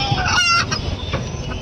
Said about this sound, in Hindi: शायद यहाँ पर मुर्गे की आवाज़ आ रही